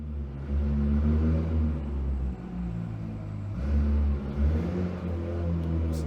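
A car with a new, supposedly light clutch pulls away, its mid-range engine rumbling and revving steadily nearby, with one brief lift in the engine note partway through and no talking.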